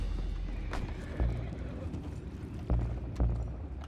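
In Red Dead Redemption 2, horses snort and whinny in short bursts over muffled hoof clopping, with a few thudding impacts and a low rumbling backdrop.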